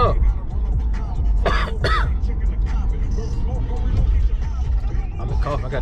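A person coughs and clears their throat close to the microphone, a few rough raspy bursts over a continuous low rumble like a car interior.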